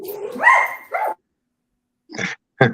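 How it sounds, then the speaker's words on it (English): Several sharp dog barks ring out close by: a loud yelping burst, a shorter bark, then two more clipped barks after a pause, with no talk over them. "Oh, the dogs. What kind of dogs?"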